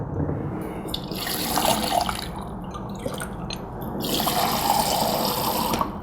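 Water runs from a tap into a sink, a steady splashing stream that swells louder toward the end, close and alone with no talk.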